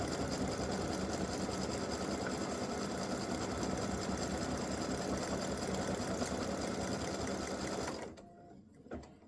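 An embroidery machine stitches the loops for a set of freestanding-lace bow earrings, giving a steady, fast rhythmic whirring and clatter that runs close and continuous for about eight seconds, then stops and leaves near quiet.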